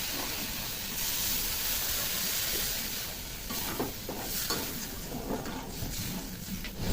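Water poured into a pan of hot fried Bengali spice masala of chili powder and salt hisses and sizzles loudly and continuously, with a steady steamy bubbling and no voices.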